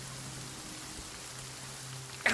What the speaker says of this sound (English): And then a lot of rain.